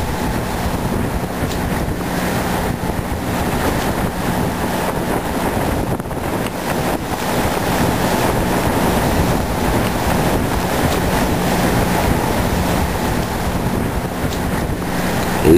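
Strong stormy wind roars across the microphone aboard the sailing yacht Varsovia in Johnston Strait, off Vancouver Island, while waves wash and slap against the hull continuously, loud and close throughout.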